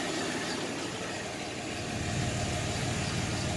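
A 1990 S10 Blazer 4x4, revived after sitting ten years, idles on all six cylinders with a steady, low rumbling drone and a slight rise in level partway through, with no talking.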